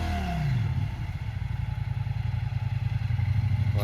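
A motorcycle labors over a rocky mountain trail in Turkey, its engine chugging in rapid uneven pulses with clattering from the stony ground, starting with a falling rev and then holding a rough, close idle-to-throttle rhythm.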